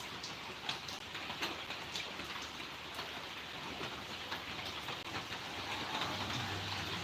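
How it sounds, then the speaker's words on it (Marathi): Steady rain falls and patters on surfaces in Karnataka, a soft continuous hiss heard from indoors, fairly quiet and unbroken. "इकडे पाऊस आहे कर्नाटकला भरपूर पाऊस चालू आहे"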